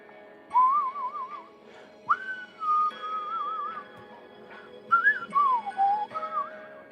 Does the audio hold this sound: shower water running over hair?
no